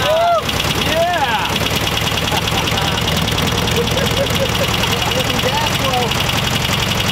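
An old, long-forgotten VW Beetle engine runs for the first time in years, a loud, rough, steady rapid chugging idle close by, with people talking excitedly over it.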